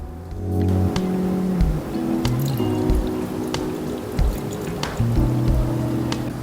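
Coolant glugs from a bottle into the radiator of a Suzuki GSX 150 motorcycle, a close, steady gurgling pour with bubbling pulses and small clinks throughout.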